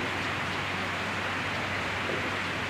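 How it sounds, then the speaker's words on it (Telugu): Heavy rain pours down at a BJP gathering in Siddipet, heard as a constant dense hiss of falling water that holds steady from start to finish with no break or talk. "వాస్తవంగా కుండపోతగా వర్షం పడుతున్నదని చాలా చెప్పాము"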